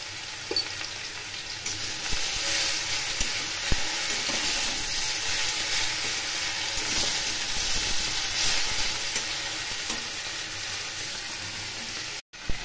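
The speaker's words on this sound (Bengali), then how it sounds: "এখন এগুলো একটু ভেজে নেব" Pumpkin and pui greens stalks with salt and turmeric fry in a pan, giving a steady close sizzle that holds evenly throughout with occasional stirring scrapes and no talking.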